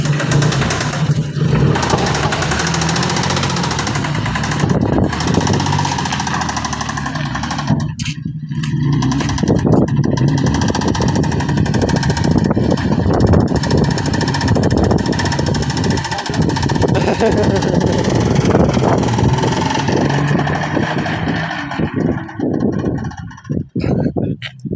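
A car engine with rod knock runs hard during a burnout, giving a loud, continuous rough roar with a throbbing, hammering edge. It holds steady for most of the time and fades slightly at the end, while people talk over it.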